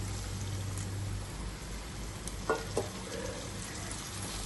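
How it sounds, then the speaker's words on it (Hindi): Reserved potato cooking water is added to roasted potatoes in a hot pan for tandoori aloo bharta, giving a steady close sizzle with a couple of brief clinks partway through. "अब ये जो आलू वाला पानी हमने बचाया था, ये इसमें थोड़ा सा शामिल करेंगे।"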